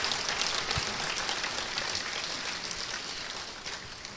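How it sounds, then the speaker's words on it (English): Applause from an audience at a Holstein cattle club anniversary gathering, a dense patter of many hands clapping together that gradually tapers off over several seconds. "let's give Steve a round of applause for giving us a lot of information"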